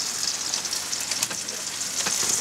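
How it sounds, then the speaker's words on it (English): Steady rain hisses outside at Long Cove, a dense broadband patter with occasional louder drops, continuous and even throughout, no voices. "And the rain has started outside."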